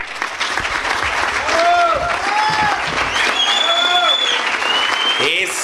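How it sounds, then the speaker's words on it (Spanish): A dense wash of applause from a gathered crowd for the group El Arco, steady and fairly loud, with voices calling and a few whistles over the clapping. "le demos un fuerte aplauso al grupo El Arco"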